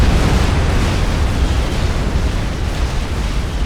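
Bombers dropping bombs on a base in Forged Alliance Forever: a continuous, loud rumbling barrage of overlapping explosions, heavy and low, rolling on without pause and with no voice over it.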